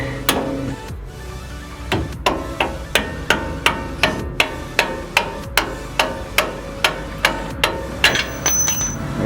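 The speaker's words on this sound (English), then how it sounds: "We'll put this back and then hit it again with the hammer." Repeated sharp metallic hammer blows on a Bilstein 5100 shock bolt of a Toyota Tacoma ring out at a steady pace, about two per second, each strike loud and close with a short ring.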